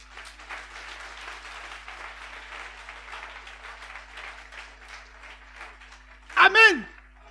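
A church congregation applauds in praise of the Lord, with steady, moderately quiet clapping throughout and a brief, louder shout or cheer rising near the end.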